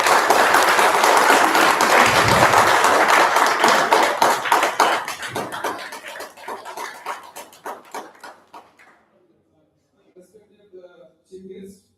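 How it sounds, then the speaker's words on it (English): A crowd applauds loudly at an inauguration ceremony at first, then the clapping thins into scattered claps and fades out, with faint sounds near the end. "May we welcome him with a huge round of applause too"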